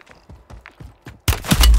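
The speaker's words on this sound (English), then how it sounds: "Someone is shooting." A close, loud burst of rapid gunfire from a Call of Duty: Warzone battle royale match erupts after a stretch of soft footsteps and movement sounds.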